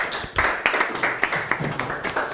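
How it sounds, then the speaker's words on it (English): An audience at an International Women's Day 2025 event claps, a brief scattered patter of hand claps with uneven rhythm, fairly close and moderately loud. "Can you just clap first of all?"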